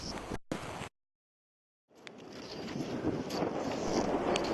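Bitter wind buffets the microphone high on Denali at about minus 25 degrees, with wind chill below minus 70. A short rush of gusts cuts to a second of silence, then a steady, close, roaring wind builds.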